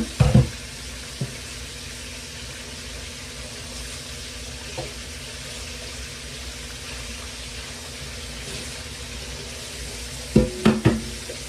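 Fish fries in oil in a pan, sizzling steadily with a soft continuous hiss, broken by a few sharp spattering crackles near the start and again near the end.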